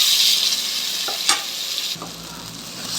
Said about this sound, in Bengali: মশলা আমার কষানো হয়ে গেছে, এবার আলুগুলো দিয়ে আবার একটু ভালো রকম কষিয়ে তারপরে জল দিয়ে দেবো